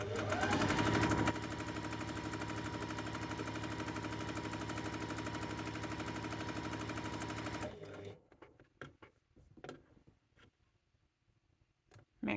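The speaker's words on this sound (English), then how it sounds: "and carry on sewing." Sewing machine stitching quilt block pieces, a steady fast mechanical whir running for about eight seconds, then stopping into quiet clicks and fabric handling.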